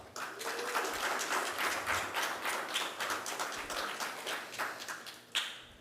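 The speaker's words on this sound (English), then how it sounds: "Give all three of our finalists a big round of applause." An audience claps for three finalists at an investigative journalism prize ceremony, with many hands applauding together in a dense, steady patter that ends in a final burst.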